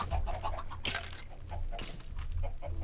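Chickens clucking in a Minecraft chicken farm, soft repeated clucks near and steady over low droning background, no speech.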